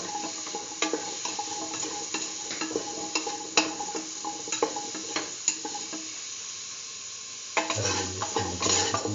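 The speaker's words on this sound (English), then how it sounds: "Thoroughly mix in the tomato paste." A spoon scrapes and taps in a pot as tomato paste is worked into a sizzling lentil and pumpkin stew, with soft steady frying under irregular close clinks of utensil on metal.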